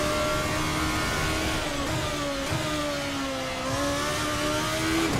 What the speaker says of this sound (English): Love the sound of the car.